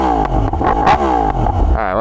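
A straight-piped Yamaha R1 motorcycle engine revs loud and close, rising and falling in sharp bursts with raw, crackling exhaust and a final climbing rev.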